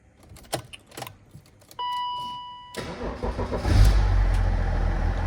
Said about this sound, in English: I'm going to put this good key in and fire it up